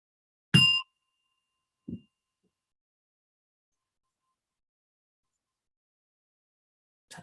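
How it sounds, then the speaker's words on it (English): A gong is struck at the start of a mindfulness practice: one clear metallic ring, a soft low knock a moment later, then near-silence until another strike begins at the very end. "as I hit the gong"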